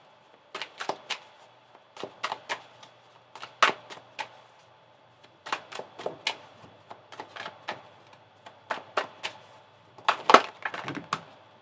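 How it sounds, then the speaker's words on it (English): Tarot cards being shuffled by hand in short bursts of crisp riffling and flicking, about a dozen quick clusters with brief pauses between them, close and clear in a quiet room. "And you saw me shuffle that."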